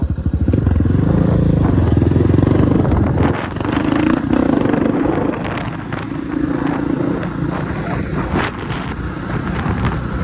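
A 250 CRZ motorcycle engine runs steadily and close, its loud low rumble rising and falling through gentle revs, with wind buffeting the microphone throughout.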